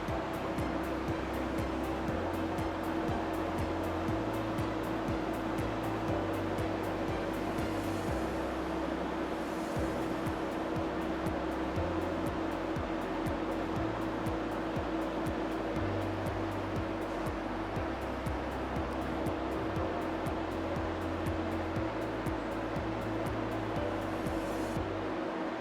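Fluoroware HTC 8000 cassette and box washer running its wash cycle, giving a soft, continuous spraying hiss over a low pulsing pump hum that stays even and fairly quiet throughout.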